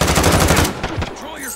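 Rapid automatic gunfire in the video game Call of Duty Modern Warfare, a loud continuous burst that stops abruptly, followed by a brief voice.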